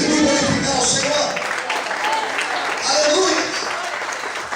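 A church congregation applauds in a sustained, dense burst of clapping that swells and eases across a few seconds, with voices mixed in.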